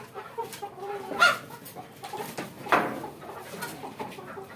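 Tiger breed chickens on a poultry farm cluck in a few short bursts, with two louder calls standing out near the middle against steady background farm noise.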